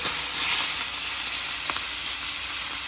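Indian mackerel fish frying in a pan on a stove, a steady broadband sizzle and hiss with a few small crackles and pops, close and continuous with no talking.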